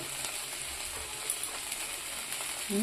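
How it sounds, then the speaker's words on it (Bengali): Masala spice paste for a sating fish curry frying in oil in a pan, a steady close hiss and crackle that holds evenly throughout with a faint scrape near the end, no talk. "মশলাটা প্রায় কষা হয়ে গেছে।"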